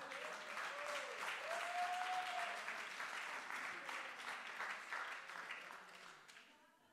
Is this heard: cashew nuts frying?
no